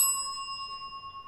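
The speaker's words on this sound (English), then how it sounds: "Bell." Single bright bell ding at the start, ringing out as a clear sustained tone that slowly fades over about a second, alone without talk.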